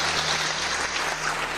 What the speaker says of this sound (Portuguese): Palmas pelo teu resultado também